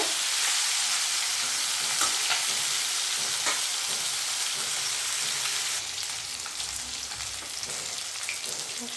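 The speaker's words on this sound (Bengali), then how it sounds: "তাই একটু হালকাই ভাজবো আমি মাছটাকে" Pieces of fresh rohu fish fry in hot oil in a pan with a steady, loud sizzle and crackle that softens slightly midway, heard alone.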